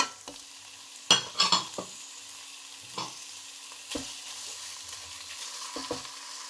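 Peppers and minced chicken fry in a pan after onions, giving a soft, steady sizzle broken by a few sharp clatters and scrapes of utensils as ingredients go in and get stirred.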